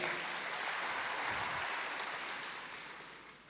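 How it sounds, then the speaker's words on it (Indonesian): Distant, fairly quiet applause from a church congregation during a service, a steady wash of clapping that slowly fades away. "Give them a hand, please."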